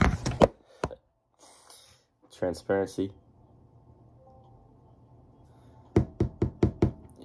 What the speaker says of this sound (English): so let's tap the desk